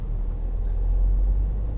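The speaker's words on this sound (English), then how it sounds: "oh, there's a car coming down." A car approaches along the road while riding inside a 2014 Volkswagen Tiguan 2.0 TDI idling in third gear, giving a steady low rumble that holds throughout with no talk.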